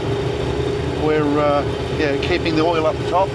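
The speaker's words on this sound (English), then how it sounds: "We're sitting at around, you know, idling at around 1600 RPM." A W9 NASCAR-style engine with a solid roller cam idles at around 1600 RPM, giving off a steady low hum with someone talking over it.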